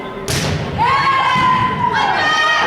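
A single solid thud as a volleyball is struck on the serve during a women's U16 match in a gym, followed by an ongoing murmur of the hall and a high tonal ring.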